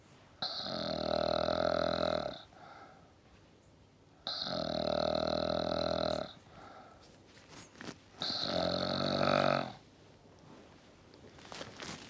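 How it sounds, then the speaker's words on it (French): Loud, close snoring: three long, droning, rattly snores, each about two seconds, separated by quiet pauses, with no speech. "Ah, je ronfle."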